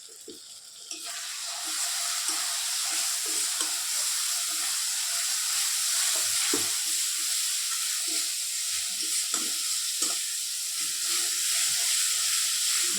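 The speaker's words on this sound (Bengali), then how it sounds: "ভালো করে মশলাটাকে কষিয়ে নেব" Masala of salt, coriander, turmeric, cumin powder and red chilli fried for a taki fish curry, giving a steady, close hissing sizzle punctuated by repeated spatula scrapes and taps throughout.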